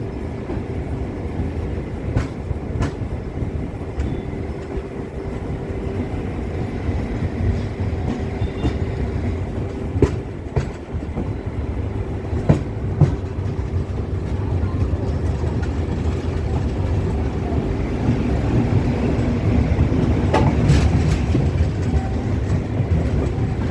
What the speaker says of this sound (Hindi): अब फाइनली ये ट्रेन हमारी ट्रेन छायापुरी रेलवे स्टेशन से डिपार्ट कर चुकी है।